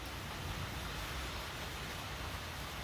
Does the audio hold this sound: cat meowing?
no